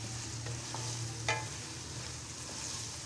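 Boiled boneless chicken pieces cut small are stirred in a pan for a Mexican chicken rice, with a soft frying hiss throughout, a few spoon scrapes, and one sharper clatter near the middle.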